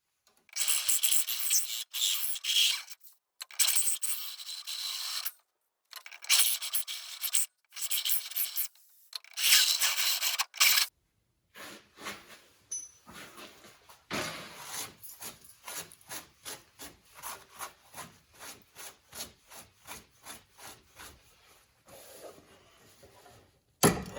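Drilling or rasping a hole for a body mount bushing on a Jetta body mount, lubricated with WD-40: bursts of harsh scraping at first, then a long run of rapid rhythmic rasping strokes, close and fairly quiet.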